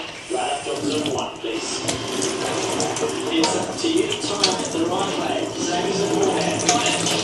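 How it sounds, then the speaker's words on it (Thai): Paper sheets soaked in water to wet them, with running water from a tap splashing steadily into a sink, continuous and close, under someone talking. "แล้วเราก็เอาไป โซก ในน้ำนะคะ หรือว่าชุบในน้ำนั่นเอง"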